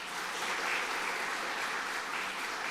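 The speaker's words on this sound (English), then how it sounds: "Applause" An audience at a rural development international conference applauds, a continuous, even patter of many hands clapping at moderate level, with no voices over it.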